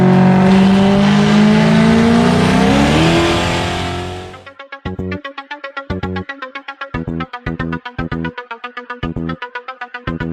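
Turbocharged Ford 363 stroker in a Fox-body Mustang on a dyno, a loud sustained high-rev pull that drops off, followed by a choppy, lumpy idle with rapid popping bursts.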